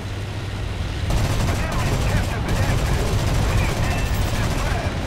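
Bf 109 K-4 fighter firing its cannon in a War Thunder arcade air battle, a sustained rapid burst of gunfire starting after the first second and continuing steadily to the end, loud and close with engine drone beneath.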